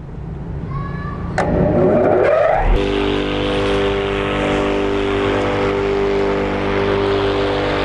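Takyo TK 1.5 grass chopper with a 1.5 kW motor switching on: a rising whine and clatter as it spins up, then a loud, steady mechanical drone with a high hum, running alone without talk.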